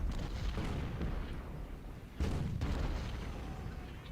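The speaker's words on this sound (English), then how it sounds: "God damn, artillery." Booming artillery fire in the Civil War strategy game Ultimate General: Civil War, with a few heavy distant blasts rolling over a continuous low rumble of battle, one sharper boom standing out midway.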